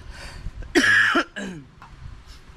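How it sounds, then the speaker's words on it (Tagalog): A person with a bad cough coughs and clears their throat in a few harsh bursts, close and fairly loud, with quiet pauses between. "Dahil talagang sama ng ubo."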